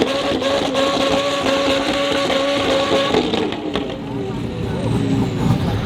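Combustion car engines rumbling at a cars and coffee meet, a sustained loud idle and drone with tonal hum under crowd chatter, swelling slightly toward the end.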